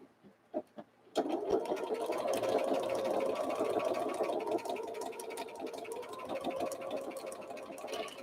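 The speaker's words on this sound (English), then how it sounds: "I still have the monofilament in there and I'm going to stitch it back down." Sewing machine stitching a quilt with monofilament thread, starting after a couple of soft knocks and then running as a steady, fast mechanical whir close by for the rest of the clip, without speech.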